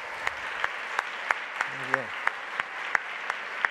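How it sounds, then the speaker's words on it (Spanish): Sparse rhythmic clapping at a genealogy conference, evenly spaced single claps from a few people, with a brief voice heard partway through. "Ahora sí, un aplauso para la hermana."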